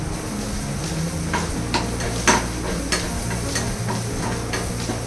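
Onions sautéing in a pan for a quick chicken dish: steady sizzling and frying hiss, with a few stirring scrapes and clinks, close and continuous with no talk.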